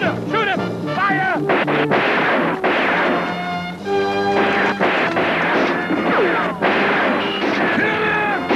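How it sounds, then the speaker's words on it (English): Film battle scene with gunfire and artillery-like blasts crashing continuously over shouting voices, dense and loud throughout with repeated sharp impacts. "Shoot him! Shoot him! Fire!"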